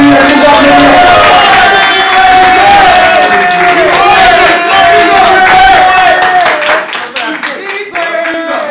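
A large crowd at a press conference claps and cheers loudly and continuously, with shouts over sustained applause, thinning slightly toward the end.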